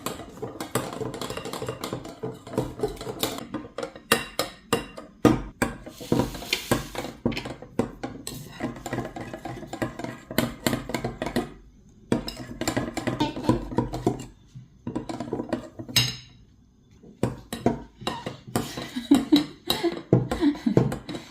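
A utensil stirring pancake batter in a bowl for breakfast, with brisk repeated clinks and scrapes in an uneven rhythm and a few short pauses, close and fairly loud.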